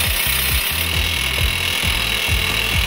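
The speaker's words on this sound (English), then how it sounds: "Pressing the start button begins drilling at half speed." Loud, steady mechanical drilling by an excavator rock drill attachment, a rhythmic pounding pulse repeating about twice a second, heavy and continuous, with no voices.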